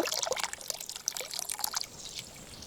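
Tamarind pulp is squeezed by hand in water for pachi pulusu, giving close, wet squelching and trickling splashes in quick irregular bursts with no talk.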